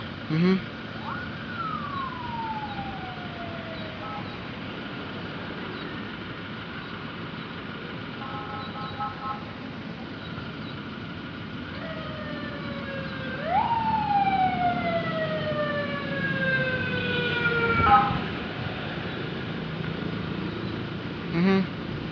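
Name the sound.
ambulance siren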